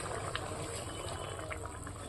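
Bata fish curry simmering in a pot just after the fish pieces go in: a steady, soft, faint bubbling hiss with no pauses.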